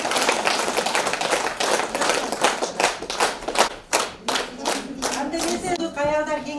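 Audience clapping at a Kyrgyz women's community gathering in Kara-Kulja, a steady burst of many hands that thins out at the end as a voice begins speaking over it.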